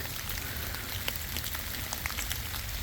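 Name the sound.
rain falling outdoors in the woods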